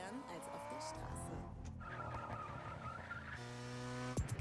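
Tuned cars skid and drift through a Hoonigan gymkhana event in The Crew Motorfest, engines revving with sustained tire squeal beneath a voice speaking over the action.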